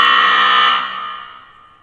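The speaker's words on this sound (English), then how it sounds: "That was the halftime buzzer." A basketball halftime buzzer gives one long, loud electronic blast that holds steady for under a second, then trails off and fades out alone.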